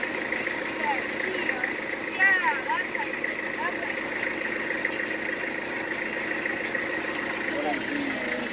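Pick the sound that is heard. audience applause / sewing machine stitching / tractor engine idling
tractor engine idling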